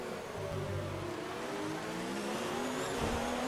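Formula 1 car from the 2019 season in the F1 2019 racing game, running a Ferrari engine at top speed, with a steady, loud high-revving engine whine and shifting harmonics throughout, no talk.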